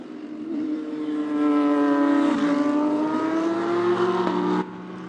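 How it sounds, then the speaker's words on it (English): Race cars at the Shanghai 8 Hours endurance race, heard close up in wet conditions, rise to a loud, rising engine whine as they pass, holding a steady high drone before abruptly dropping away. "Close-up sounds of these cars."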